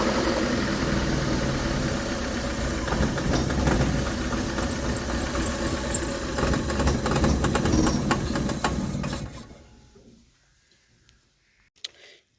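A Maruti Suzuki Eeco gas-fitted van with a throttle problem idles roughly, a steady loud rumbling engine with vibration that cuts out near the end, leaving near silence and one small click.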